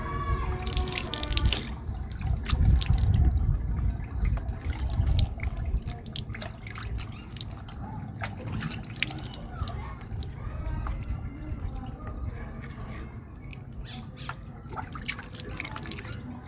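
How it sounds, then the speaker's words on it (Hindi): Hands washed under a running tap after outdoor work with red dirt, water splashing and dripping steadily with small clatters and sloshes, close and fairly loud throughout. "हाथ में वॉश कर रही हूँ"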